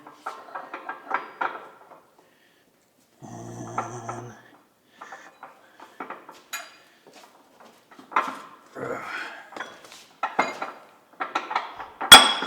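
Metal gears and bolts from an International Farmall Super H tractor restoration being picked up and moved, giving scattered close clinks, clanks and knocks in irregular bursts with short quiet gaps and a sharper clang near the end.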